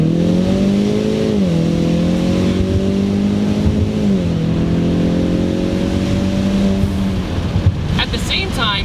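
A modified Ecoboost Mustang with airlift suspension and big wheels accelerates hard, its engine note rising through second gear, dropping at the shift, then climbing again in third, loud and continuous with a faint voice at the end.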